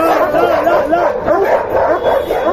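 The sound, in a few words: guard dog barking at a Friday market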